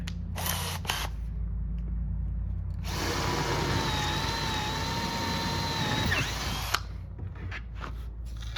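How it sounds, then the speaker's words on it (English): Power drill boring a larger center hole through wood on a Tapper arcade cabinet being restored, a close, loud whine with rising pitch sustained for about four seconds, framed by shorter handling noises and brief drill bursts before and after. "Now I'm going to drill a bigger hole in the center"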